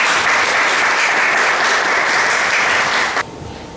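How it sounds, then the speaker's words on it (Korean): An audience at a lecture on peace and reunification claps to welcome the speaker, a dense, steady wash of applause that holds loud and even before cutting off abruptly near the end. "우리 김진양 선생님을 큰 박수로 모시고 강의를 듣도록 하겠습니다"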